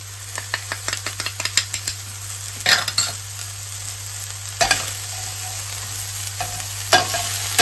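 Onions softened in a pan sizzle steadily as cumin and paprika are stirred in for shakshuka, with repeated close scraping strokes of a spoon against the pan over the constant frying hiss.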